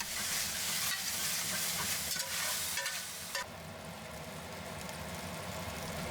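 Food is stir-fried with soy sauce in a hot pan, a loud, continuous close-up sizzle with quick stirring, the hiss dropping suddenly to a softer, steadier frying sound partway through.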